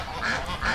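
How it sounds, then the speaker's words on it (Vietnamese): A farm duck gives two short, nasal quacks in quick succession, moderately close and alone. "Con vịt."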